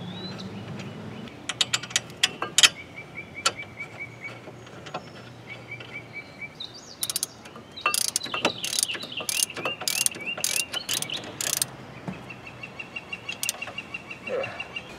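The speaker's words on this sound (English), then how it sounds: "start tightening the bolt down" A ratchet tightens a brake caliper bracket bolt on a Saturn S-Series car, giving sparse, quiet mechanical clicks and metallic ticks at close range with gaps between strokes.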